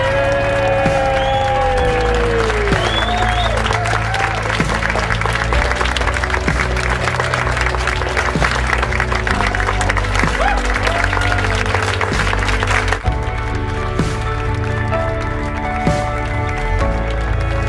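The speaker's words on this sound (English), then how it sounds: "would you please clap your hands, stamp on the floor, shout and cheer, and generally give a very warm welcome to your bride and groom" A wedding reception crowd claps, stamps on the floor and cheers loudly to welcome the bride and groom, a dense, continuous roar of applause with whoops rising through it, close by and sustained throughout.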